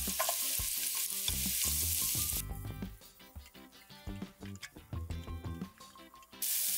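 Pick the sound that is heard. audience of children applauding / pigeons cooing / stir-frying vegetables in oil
stir-frying vegetables in oil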